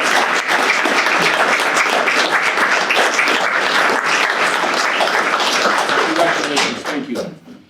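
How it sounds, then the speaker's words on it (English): Audience at a veterans recognition breakfast applauds a Marine veteran who received his Purple Heart after 50 years: loud, dense, sustained clapping filling the room, tapering off near the end. "Give him a round of applause."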